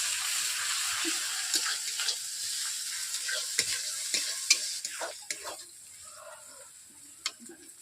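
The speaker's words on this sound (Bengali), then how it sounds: "এরপর এখন দিয়ে দিচ্ছি আদা রসুনের বাটা দুটোই একসঙ্গে দিয়ে দিচ্ছি পেঁয়াজের সঙ্গে ভেজে নেবো" Ginger-garlic paste frying with onions in a pan for a katla fish curry, a steady hiss overlaid with repeated scraping spoon strokes and clicks that thin out toward the end; no talking.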